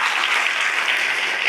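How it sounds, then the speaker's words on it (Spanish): A congregation claps in a dense, steady burst of applause that fills the space, loud and continuous with no talk over it. "Dale un aplauso al Señor."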